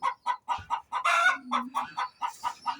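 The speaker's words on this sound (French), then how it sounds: "la cocotte que vous entendiez chanter, ben, nous a pondu" A hen cackles loudly right after laying an egg, giving a rapid run of sharp clucks that swells into a longer drawn-out squawk before the quick clucking resumes, all close by.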